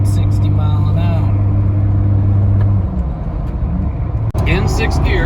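A Jeep Gladiator cruises in sixth gear at 60 mph around 2,000 RPM, a steady low engine drone and road rumble heard from inside the cab, with someone speaking over it.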